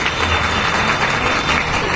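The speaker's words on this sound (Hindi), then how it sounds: "तो ऐसी संस्था के लिए जोरदार तालियां बजाइए।" Audience applause at a women's Saptashakti Sangam gathering, a steady dense wash of clapping holding at an even level throughout with no break or talk.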